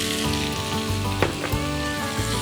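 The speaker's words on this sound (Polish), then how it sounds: "oraz dorzucam ugotowany wcześniej makaron pappardelle" Cooked pappardelle pasta goes into a hot pan with wild boar meat, setting off a continuous close sizzle and fry over background music, with a couple of brief sharper crackles.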